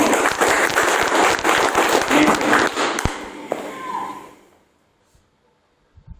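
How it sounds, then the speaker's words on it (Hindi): An audience at a business training seminar breaks into loud, dense applause that continues for about four seconds, then quickly dies away into near silence. "इसके लिए एक बार जोरदार तालियां।"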